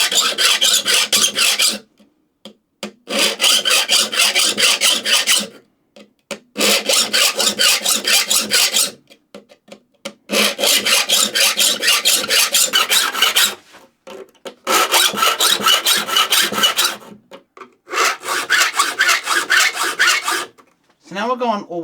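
A file rasps across the teeth of a handsaw being converted from rip to crosscut, in loud, rapid strokes grouped into bursts separated by short pauses.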